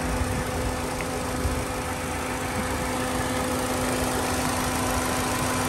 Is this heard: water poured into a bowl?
no